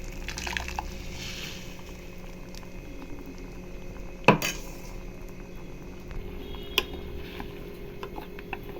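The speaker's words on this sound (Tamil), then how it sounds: "இதை நல்லா வதக்கிடலாம்." Spices sautéing in oil in a pan for paya, a low, continuous bubbling sizzle with an occasional metallic clink of utensil against pan, one sharper knock midway, close and quiet.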